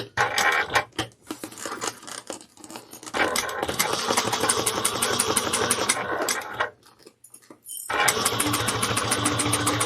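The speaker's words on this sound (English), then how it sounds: "I'm going to do a back stitch in the corner." A sewing machine runs in steady bursts while back stitching a corner of a handbag, loud and close, with brief pauses between the mechanical runs.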